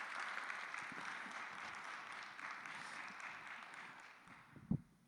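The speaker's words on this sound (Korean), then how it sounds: "새로운 장르의 설교를 보여주신 두 분 설교자 목사님과 우리 한영규 원우에게 다시 한번 큰 박수로 감사 인사를 드리고 싶습니다." Audience applause at a seminary chapel service, a steady, fairly faint patter of many hands that fades toward the end.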